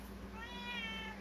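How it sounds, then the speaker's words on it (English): A cat meows once in a drawn-out, rising and falling call, close and clear over a steady low hum, with no talking. "You hear how he's meowing"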